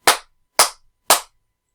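A group of people clap in unison on a countdown, three sharp synchronized bursts of applause evenly spaced about half a second apart, loud and close with silence between.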